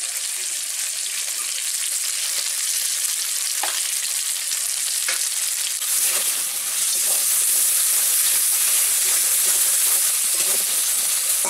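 Chopped tomatoes with salt cooking in a pan for a village-style Bengali lunch, a loud continuous steamy hiss and sizzle throughout, with a few soft stirring knocks and no speech.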